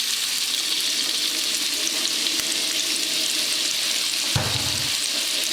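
Onions and red peppers fry in a pan for a Dominican salami guisado, giving a steady, loud broadband sizzle throughout with a brief stir-like knock near the end.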